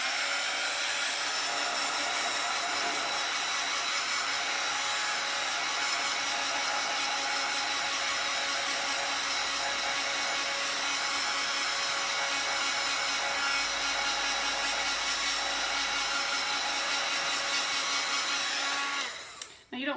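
A heat drying tool blows hot air over a chalk craft project, making a loud, continuous rushing whir that holds steady for about twenty seconds before cutting off abruptly at the end.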